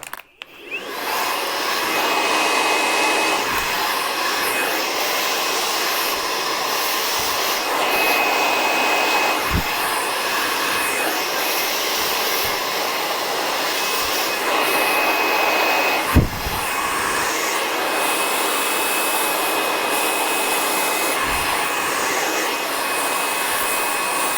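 A hair dryer fitted with a nozzle blows hot air onto hair held close over a round brush, giving a loud, steady, continuous whoosh near the listener with small shifts in tone as the brush moves.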